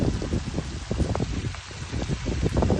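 Heavy storm rain pours on a flooded road, a dense, loud, constant wash of rainfall with wind rumble and microphone buffeting, no voices.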